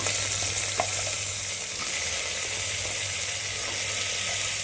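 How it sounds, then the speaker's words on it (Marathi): Mutton trotters frying with a pinch of turmeric in a pan, giving a continuous close sizzle with soft stirring scrapes underneath. "आता हे परतून घेऊया म्हणजे पाव चमचा हळद टाकूया चांगलं परतून घ्यायचं त्यामध्ये पाय टाकूया"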